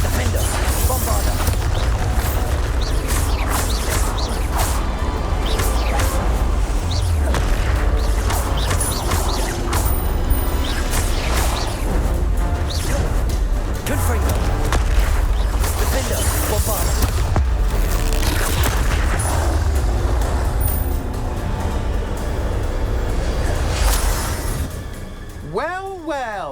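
Confringo and Bombarda spell blasts fired in Hogwarts Legacy combat: repeated crashing impacts and explosive bursts amid a dense, busy clatter of battle effects, with a voice talking over parts of it.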